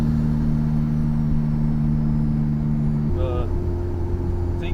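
A Nissan S13 street drift car with a T28 turbo drones steadily from inside the cabin, a loud, continuous engine hum whose tone shifts partway through.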